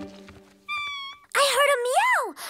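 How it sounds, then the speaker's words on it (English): A loud, drawn-out cat meow with a rising then falling pitch follows a short musical tone and some brief talk, close and clear. "I heard a meow!"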